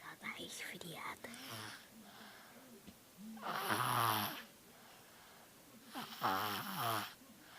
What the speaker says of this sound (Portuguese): Roncando pra caramba por causa do resfriado.